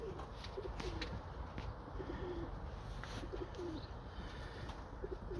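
Breeding pigeons coo softly and repeatedly, with low throaty calls recurring every second or so against a steady background hiss.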